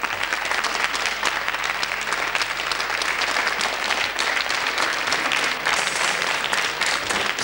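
Sustained applause from a studio audience at an award ceremony for a beauty pageant, dense and steady throughout with no pauses, filling the room evenly.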